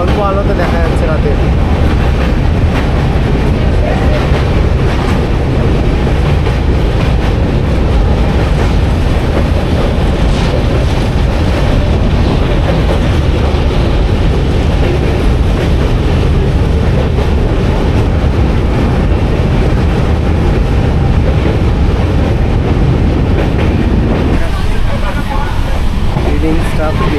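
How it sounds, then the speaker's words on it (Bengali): The Darjeeling Mail passenger train, number 12343 from Sealdah to New Jalpaiguri, rumbles loudly and continuously over the Hooghly bridge at night, a dense roar of wheels and wind with voices faintly underneath. "ট্রেন প্রবেশ করলো হুগলি সেতুতে"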